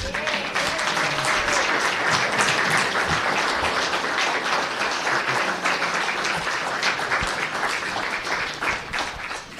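Audience at a House District 33 candidate forum breaking into sustained, loud applause, a dense continuous clatter of many hands lasting nearly ten seconds, with faint voices murmuring underneath.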